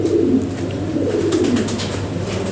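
A Lahori Siraji pigeon coos in soft, repeated low throaty calls, close and steady over a faint background hum.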